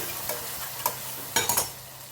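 Red chili powder, turmeric, garam masala, coriander-cumin powder, asafoetida and salt being stirred into a frying mixture, with a steady sizzle and several quick spoon scrapes toward the end.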